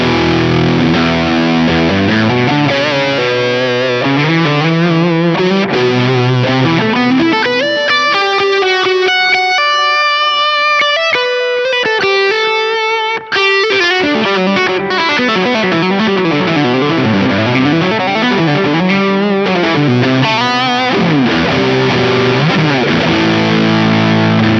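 An electric guitar plays through a JHS ROSS distortion pedal set to germanium mode, turned up loud. Thick, saturated sustained chords and gliding bent lead lines ring out close and continuous for the whole stretch, with no talking.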